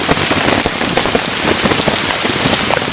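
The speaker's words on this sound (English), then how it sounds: "But it's still hailing." Hail pounds steadily on a tarp over a trail campsite in wintry conditions, a dense, continuous patter of hard hits close by, with no voices.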